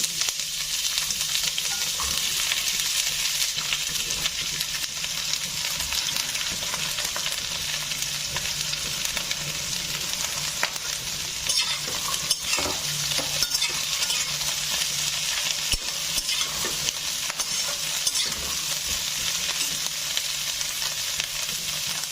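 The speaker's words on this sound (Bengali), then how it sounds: "এখন আমি সজনের ডাটাগুলো দিয়ে দেব" Drumstick (moringa) stalks fry in a pan after a cumin tempering, giving a loud, continuous crackling sizzle with occasional stirring scrapes, close and steady throughout with no speech.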